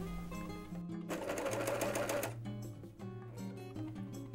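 An overlock sewing machine stitches fabric in a steady fast mechanical whir, running loudly in the middle for about a second and a half, with quieter motor hum and clicks before and after.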